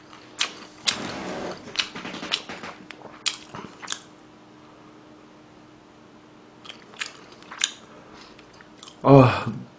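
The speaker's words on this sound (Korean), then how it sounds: "그냥 손으로 맛있게 뜯어 먹을게요" Spicy fried chicken sticks torn apart by hand and chewed, giving bursts of crunchy biting and wet mastication close to the mic, with quiet gaps between bites.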